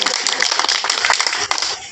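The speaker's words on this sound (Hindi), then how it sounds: "उनके लिए एक जोरदार तालियों से स्वागत किया जाए" Audience at a school Education Day celebration at Holy Vision Academy clapping, dense rapid hand claps in a continuous burst, fairly close and lively, with voices mixed in underneath.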